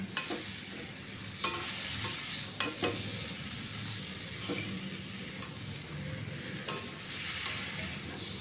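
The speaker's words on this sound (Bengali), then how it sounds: "আমি জাস্ট মিশিয়ে দেব ভেন্ডির সাথে" Cooked potato stirred into bhindi (okra) frying in oil, a steady sizzle with scraping spatula strokes and a couple of sharp clinks, nearby and continuous with no talking.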